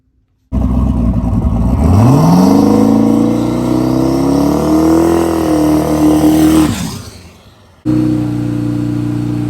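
A no prep drag race car runs a solo pass with about 15 psi dome pressure. The engine roars loud and close, climbing in pitch through the gears, then drops off and cuts out before a steady idle returns.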